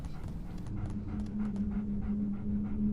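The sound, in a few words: dog in Game of Thrones video game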